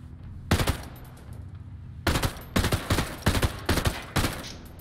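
Bursts of automatic gunfire in the tactical shooter Ghost Recon Breakpoint, one burst alone, then a pause and several rapid volleys in quick succession, loud and close.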